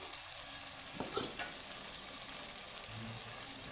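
Pumpkin sautéing with spices in a pan gives a soft, steady sizzle, with a few stirring scrapes and knocks from a utensil, close but fairly quiet and with no talk.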